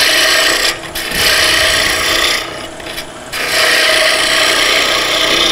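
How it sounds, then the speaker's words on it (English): A spindle gouge cuts wood spinning on a lathe to make miniature bird houses, a loud, close, continuous rasping hiss that drops away briefly twice as the tool lifts off the workpiece. "I'm using a spindle gouge now."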